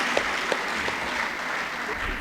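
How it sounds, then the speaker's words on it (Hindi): Audience applause welcoming the poet Surajpal Chauhan at a literary gathering, a fairly soft, even wash of clapping heard at a distance, continuous through the short stretch. "जोरदार तालियों से स्वागत करिए सूरजपाल चौहान जी का"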